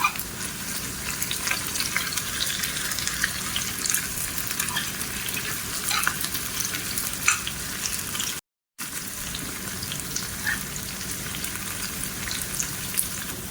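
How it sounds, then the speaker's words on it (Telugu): Curry leaves and three dried red chillies fry in hot oil with a continuous, close crackling sizzle, like steady rain on a surface, broken by one brief drop to silence partway through. "కొద్దిగా కరివేపాకు, 3 ఎండుమిరపకాయలు బాగా ఆయిల్లో వేయాలి."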